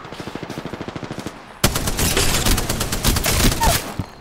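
Rapid automatic gunfire in a shooter video game, a steady rhythmic burst of shots at first, then a louder, denser barrage of fire continuing to the end with no talking.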